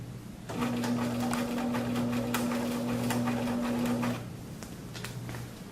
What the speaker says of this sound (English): I'm going to sew my other 1/2 inch seam allowance across here